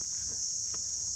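Crickets chirp in a steady, high, continuous drone on a Sri Lankan evening between Kandy and Sigiriya, a constant insect trill with faint low background rumble.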